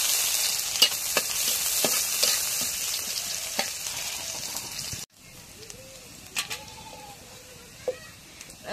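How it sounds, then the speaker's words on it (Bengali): Food frying in a wok is stirred, with scraping clatters over a steady sizzle that drops quieter midway, followed by a few knocks and light utensil sounds. "এখন একটু নাড়িয়ে দিই।"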